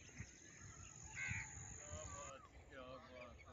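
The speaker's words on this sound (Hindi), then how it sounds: "और परिंदों की चहचहाहट" Several crows caw against a quiet outdoor background at sunrise in a Punjab village, the calls short and spaced, with faint chirps and a low rumble underneath.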